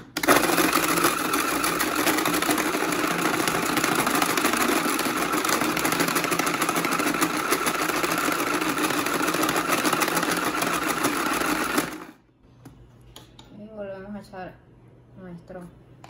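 A homemade ice shaver grinds ice for raspados, a loud, steady mechanical whir that runs for about twelve seconds and then stops abruptly, after which someone speaks quietly.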